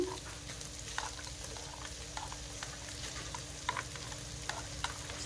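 Ham sizzling with onions in a frying pan, a steady low frying hiss with occasional soft pops and stirring clicks, heard close and alone with no talk.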